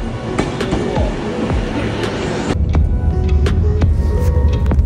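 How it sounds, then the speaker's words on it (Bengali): An Avanti West Coast train pulls away from Carlisle bound for Glasgow Central, heard from on board as a steady rumble with faint rail clicks that deepens into a heavier low roar midway through. No voices. "আমার ট্রেন ছেড়ে দিয়েছে গ্লাসগো সেন্ট্রালের উদ্দেশ্যে"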